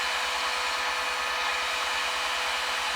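A hair dryer blows hot air onto plastic water tubing to soften it, giving a steady, close, even whoosh of fan noise with no breaks and no voices.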